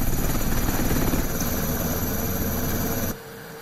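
A medical evacuation helicopter roars close by with a loud, steady rotor thrum and whine, dropping off abruptly near the end.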